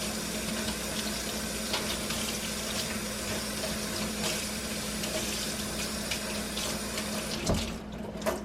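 Warm tap water runs steadily from a faucet while a Berkey water filter is being cleaned, a continuous hiss and splash that ends with a brief clatter near the close.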